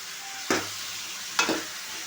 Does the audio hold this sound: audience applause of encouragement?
no